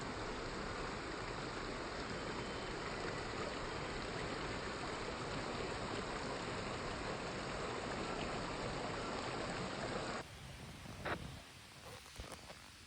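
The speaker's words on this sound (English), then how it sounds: "I love the sound of the water." A stream at Vogel State Park flows in a steady, even rush of water for about ten seconds before the sound cuts to quieter outdoor ambience with a few faint knocks.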